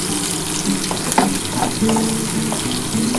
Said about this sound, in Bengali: পেঁয়াজটা কিন্তু একটু লাল লাল করেই ভাজতে হবে